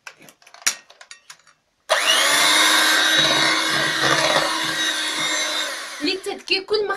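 An electric mixer whirs loudly and steadily through cake batter with milk and oil added, starting abruptly after some clinks and handling noises and stopping near the end, followed by more clatter.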